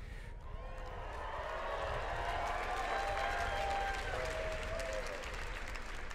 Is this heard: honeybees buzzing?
no